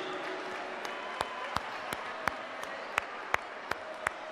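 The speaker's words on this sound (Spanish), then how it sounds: "Muchas gracias, un aplauso fuerte para ellos" Scattered audience applause at a student robotics competition, sharp individual claps rising over a steady crowd murmur in a large hall, faint and somewhat distant.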